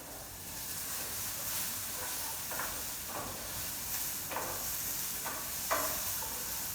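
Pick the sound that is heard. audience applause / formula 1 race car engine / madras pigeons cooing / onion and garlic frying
onion and garlic frying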